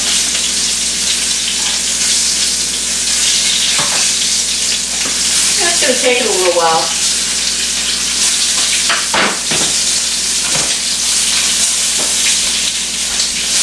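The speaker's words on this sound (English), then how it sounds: "I'm still frying it up in butter" Boneless, skinless chicken breasts frying in butter in a pan, a continuous bright sizzle and crackle held close and loud, with a few clinks and scrapes and someone talking briefly.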